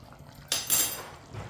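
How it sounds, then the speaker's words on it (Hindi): Garam masala is stirred into a chicken and pea curry, with a brief close clatter of a metal spoon scraping against the pot, two quick clinks in a row, then quiet. "गरम मसाले को मिक्स कर लेंगे।"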